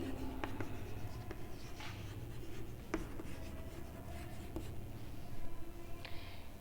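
Writing during a physics lecture on heat transfer, faint close scratching and tapping of a pen or marker in short strokes, with no talking.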